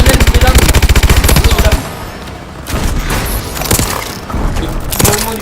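Rapid automatic gunfire from Call of Duty Advanced Warfare rattles loudly in a sustained burst, then breaks into scattered shots, clatter and booms amid ongoing game action.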